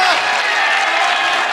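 A concert crowd roars and applauds during a live performance, a dense, steady wash of clapping and cheering that holds loud and unbroken throughout.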